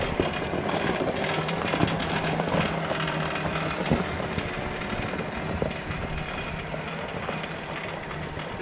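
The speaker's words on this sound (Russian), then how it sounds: "Шум, да? Цепь слышно." A homemade hybrid mini tractor runs with a steady engine drone and a rattling chain, continuous and fairly close with no talk.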